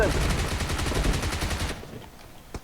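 Rapid automatic gunfire from the mobile battle royale game PUBG Mobile, a dense loud burst of shots lasting nearly two seconds before dropping off, followed by a couple of sharp isolated shots.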